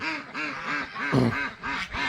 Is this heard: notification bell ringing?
no